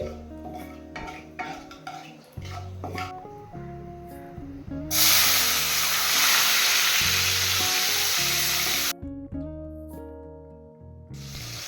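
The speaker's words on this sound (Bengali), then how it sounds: "এর মধ্যে দিয়ে দেব ওয়ান ফোর্থ কাপ টমেটো কুচি" Chopped tomato dropped into hot oil with bay leaf and whole cumin, a loud, steady sizzling hiss that swells for several seconds over a background of music, then cuts off.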